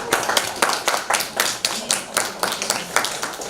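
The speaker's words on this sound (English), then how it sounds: "let's give them all a round of applause" An audience gives a round of applause at a 2018 writing reading event. The clapping is close and fairly loud, with a steady rhythm of sharp, distinct claps running for a few seconds.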